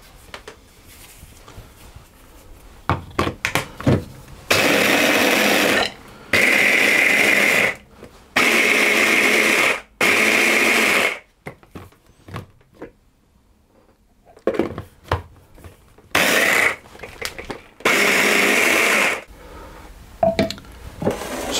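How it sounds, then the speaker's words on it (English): A food processor mincing figs, dates and cinnamon powder runs in a series of loud, steady pulses of a second or two each, separated by short pauses and quieter clatter. No one speaks. "And process that until it's all minced up"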